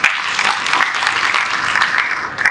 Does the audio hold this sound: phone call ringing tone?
no